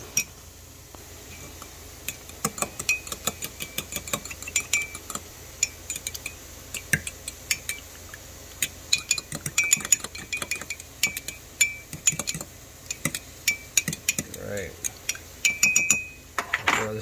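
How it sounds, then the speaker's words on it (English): A fork clinks and taps rapidly against a bowl while three eggs are stirred for a breakfast wrap. The sharp metallic ticks come in irregular bursts throughout, close by and over faint background noise. "we're going to get a fork. Stir this up a little bit."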